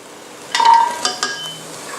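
Carrots and shiitake mushrooms are stir-fried in oil in a pan, with a few sharp utensil clinks and scrapes against the metal over a faint, steady sizzle.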